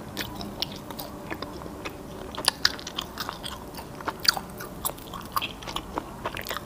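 Hand-torn, original-cut beef shank jerky with no preservatives, chewed up close: a series of irregular crunchy bites and gnaws over a quiet background, with no talking.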